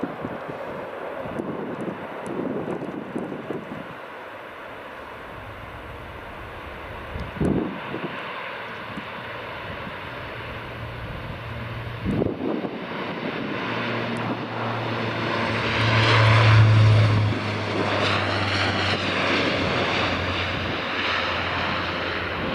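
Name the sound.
aircraft taking off or landing at Aberdeen Dyce Airport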